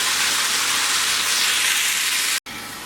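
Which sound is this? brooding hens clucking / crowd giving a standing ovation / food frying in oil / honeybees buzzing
food frying in oil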